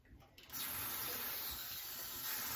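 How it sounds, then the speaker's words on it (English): A spray bottle mists water mixed with tea tree oil onto hair, a soft close hiss that starts abruptly after a quiet moment and continues steadily. "I like to spray a little water in my hair with tea tree oil in it"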